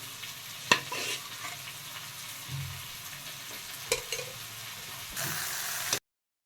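Mustard oil sizzles steadily in a pan as spices are tempered for mustard greens, with occasional clinks and stirring noises, a continuous frying hiss that ends abruptly.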